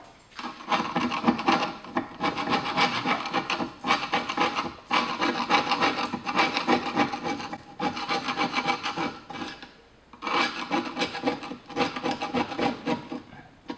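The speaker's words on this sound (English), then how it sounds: "Then you're gonna want to scrape out and get as much of that old adhesive that's down in there out." Old adhesive being scraped out of the gasket channel on a wood stove door, a steady raspy rubbing in long bursts with brief pauses between strokes, close and fairly loud, with nobody talking.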